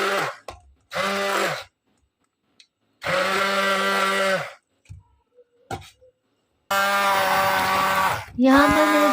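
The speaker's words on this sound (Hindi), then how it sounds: "चावल बॉयल किए थे उसे मैं ब्लेंडर वाली मशीन में ब्लेंड करके मैंने अपनी खीर में डाल दिए थे" A kitchen blender whirs through boiled rice for kheer in three loud bursts separated by pauses, each run steady and close with a sharp motor whine, plus small clicks between runs.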